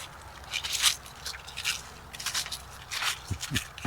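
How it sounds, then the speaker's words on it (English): Footsteps crunch through dry fallen leaves on a rural Alabama property after months without rain, a series of close, crisp crackling steps in an irregular walking rhythm, with no talking. "listen to the crunching leaves"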